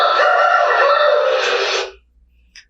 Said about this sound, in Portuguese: É um galo cantando.